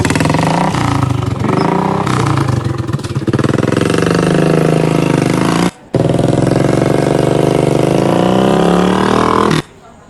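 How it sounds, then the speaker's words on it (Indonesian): Noisy motorcycle engine roars loud and close with a rough, continuous drone, broken by one brief cutout midway and stopping near the end. "Motor berisik nih. Ini motor berisik ini nggak ada."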